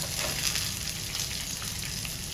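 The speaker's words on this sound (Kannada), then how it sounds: "ಅದಕ್ಕೆ ನೀರನ್ನು ಕೂಡ ಹಾಕ್ತಾ ಇದ್ದೇನೆ" Water added to masala frying in a pan for Mangalorean chicken curry, giving a close, continuous sizzling hiss with a bubbling undertone that stays steady throughout.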